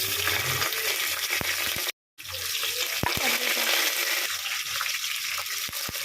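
Spoon scraping and stirring vegetable rice with tomato, potato, onion, cloves and chilli in a pan, a continuous sizzling hiss with a few light knocks against the pan and a brief gap partway through.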